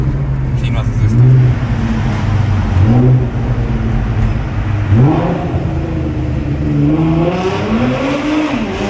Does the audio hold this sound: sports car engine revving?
yes